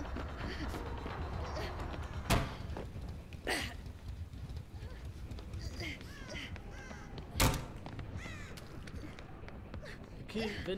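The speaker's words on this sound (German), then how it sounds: "Apropos dumme Krähe, die ist gerade hinter mir." A crow in the Dead by Daylight video game caws a few scattered times over a steady background ambience, with short loud bursts standing out.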